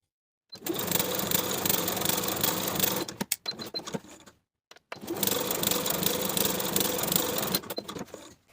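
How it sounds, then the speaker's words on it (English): A sewing machine runs gathering stitches along fabric in two long, steady bursts of rapid mechanical whirring. A short pause between them holds a few clicks and handling sounds. "We'll be sewing gathering stitches from one notch to the other, first with a 1/4 inch seam allowance, then once more with a 5/8 inch seam allowance"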